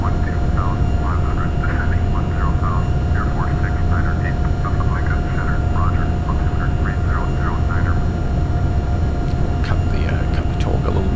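Aircraft engine in a flight simulator game, a continuous low drone that holds steady throughout while someone talks over it and a few clicks sound near the end.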